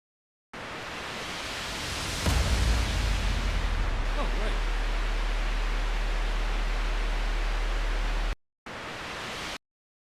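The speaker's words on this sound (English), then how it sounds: "the other white noise thing" A white noise sweep in a rock song mix, a loud broadband hiss that swells with a booming snare hit, holds steady with a low rumble, then cuts out and briefly returns.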